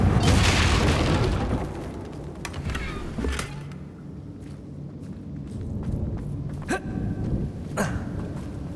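Confringo blasting spell exploding in the Hogwarts Legacy video game: a loud booming blast at the start, followed by scattered sharp pops and impacts over a continuous rumbling game soundscape.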